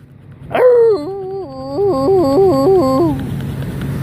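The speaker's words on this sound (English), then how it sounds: "But there's my dog." A dog lets out a drawn-out, wavering howl-whine near the microphone, rising and falling in several pulses over about three seconds against a low background rumble.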